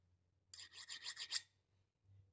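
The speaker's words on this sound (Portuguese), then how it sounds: "A lima, ela passa reto. Se for ver, é praticamente o mesmo barulho." Steel file rasping across a VW Beetle 1622cc engine camshaft during a hardness check, a short burst of several quick rhythmic strokes, close and clear, followed by quiet.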